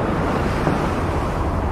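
Stormy sea waves roar in a horror adventure audio drama, a dense, loud, continuous wash of surf and wind-like rumble with no voices.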